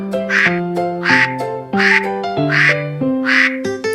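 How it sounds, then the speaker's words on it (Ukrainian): Repeated nasal honking calls, about six loud bursts in a steady rhythm, close by with no talking. "Гуска каже га-га-га."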